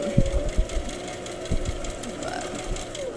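A sewing machine stitches an interfacing patch with a steady, close motor whir and a faint rhythmic needle knock. It keeps running through slight pivots along curves.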